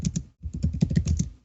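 Someone typing hard on a computer keyboard, a quick run of sharp, close clicks and clacks with a brief pause near the start, no voices.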